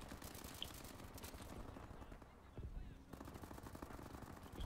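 Bursts of machine-gun and cannon fire in the tank game Armored Warfare rattle in rapid strings, pausing briefly before resuming, heard fairly quietly.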